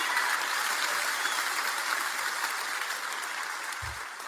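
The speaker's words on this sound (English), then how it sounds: "look at the size of the congregation cheering for this" A large church congregation applauds and cheers in a dense, steady wash of clapping that tapers slightly at the end.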